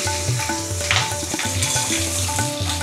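Bottle gourd pieces sizzle and crackle steadily in hot oil in a pan after a tempering of peppercorns and torn bay leaf, with stirring and scraping throughout.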